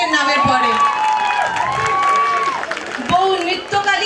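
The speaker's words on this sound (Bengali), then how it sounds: "হাততালি হবে প্রত্যেকের নামের পরে।" Theatre audience cheering and clapping during cast introductions for a Bengali stage play, a continuous crowd roar with whoops under an announcer's voice.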